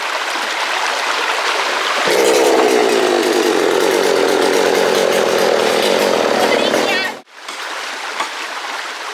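A chainsaw cutting down a tree in a forest, with a loud, steady engine drone for several seconds that cuts off abruptly, leaving rustling outdoor ambience.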